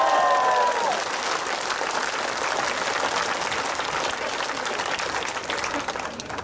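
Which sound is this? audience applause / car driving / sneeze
audience applause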